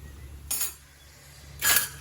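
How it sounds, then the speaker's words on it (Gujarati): Steamed patra lifted out with metal tongs, two brief clinking scrapes of metal against the steamer, close and soft with a quiet background hum between them. "આપણે કાઢી લઈશું ચીપિયા વડે"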